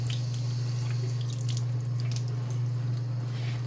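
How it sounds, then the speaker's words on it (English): Water running from a faucet as small fingers are washed under it, a steady hiss with a strong low hum underneath and light splashes throughout. "Where's the faucet? Right here, water faucet."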